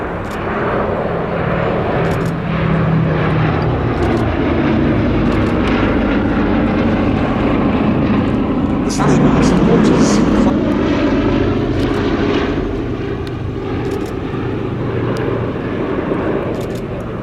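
A Boeing B-17 Flying Fortress bomber roars past at an airshow, its piston engines and propellers droning loudly and steadily, swelling as it comes nearest, then easing slightly as it moves away.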